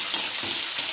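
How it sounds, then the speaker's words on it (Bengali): Diced potatoes fry in hot oil in a home kitchen pan, a steady bright sizzle with a couple of sharper spits as they are stirred, close and continuous with no talk. "আমি আলুটাকে তেলের মধ্যে কিছুক্ষণ ভেজেছি।"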